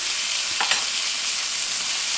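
Steak sizzles steadily in a hot pan as butter and garlic are spooned over it, a constant bright hiss with a brief spatter burst near the start and no voices.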